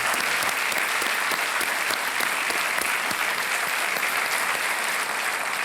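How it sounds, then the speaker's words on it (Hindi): A studio audience on a televised quiz show applauds in one dense, unbroken wash of clapping that holds at a steady, loud level throughout. "तालियों के साथ हम आपका अभिनंदन करते हैं"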